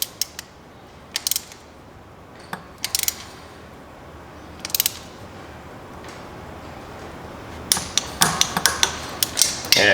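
Ratchet wrench tightening bolts while fitting a catalytic converter on a 2009 Toyota Camry Hybrid, heard as short bursts of close clicking separated by pauses, growing into quicker clicks near the end, with no talk.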